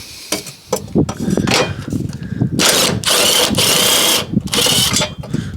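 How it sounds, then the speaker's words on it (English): Power tool bursts undoing bolts on a former Cat N car, short whirring runs followed by two longer sustained bursts, close and loud with clanking of tools between. "So let's get the bolts undone."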